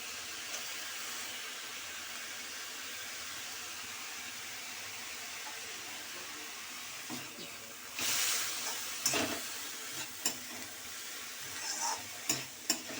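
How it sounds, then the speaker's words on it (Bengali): Soaked raw chickpeas with turmeric fry gently on low heat, making a soft, low sizzle. Toward the end come a few louder bursts of hissing and scraping from stirring. "দিয়ে এটা আস্তে করে ভাজতে হবে, এটা চাপা দেবো না, এই কম আঁচ করে ভাজবো।"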